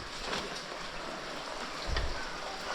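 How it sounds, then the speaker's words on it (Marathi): Steady rain falls in a Konkan village, a continuous soft hiss of drops across the whole stretch with a low rumble swelling briefly near the end. "पाऊस चालू झाला ना आता कुठलं काय"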